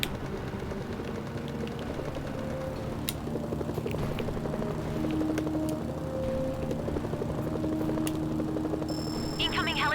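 Attack helicopters close in during a North Korean battle in the video game Mercenaries: Playground of Destruction. Steady rotor throb and engine drone run throughout under game music, with a few sharp clicks and tonal effects.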